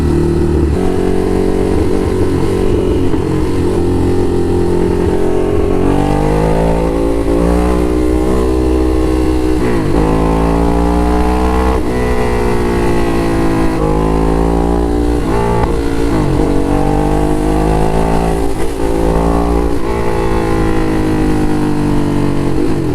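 A motorcycle with a loud aftermarket exhaust is ridden in traffic, heard from the rider's helmet as a continuous, close, heavy engine drone that rises and falls with repeated revving through the gears.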